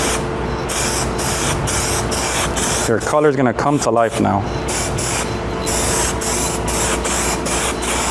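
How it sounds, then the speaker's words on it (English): An adjustable-fan spray gun hisses steadily as it lays clear coat over fresh colour, a loud continuous spray that pauses briefly while someone speaks, then resumes. "Let's spray a little bit better on the edges."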